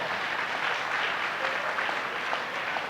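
Audience at a children's honoring ceremony with a religious teacher in Firozabad, India, claps steadily and densely throughout, a sustained round of applause without speech.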